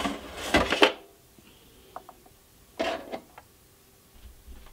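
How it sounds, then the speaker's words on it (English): The power supply unit slides out of an HP 54501A oscilloscope in two close scraping, rubbing bursts of metal against the chassis, with small clicks between them and no speech. "And now the power supply should just pull out."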